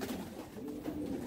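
Damascene pigeons kept on a rooftop coo softly and continuously, a low, steady, murmuring call with no other sounds over it.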